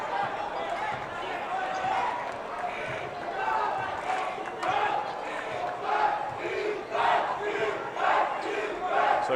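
A home crowd at a high school boys basketball final groans and shouts in displeasure after a turnover, a loud surging roar in a gym with squeaks and bounces, under continuous commentary.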